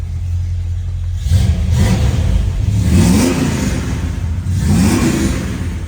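A 1956 Plymouth Savoy engine idles with a deep rumble, then is revved several times in rising swells, close and loud with no talking over it.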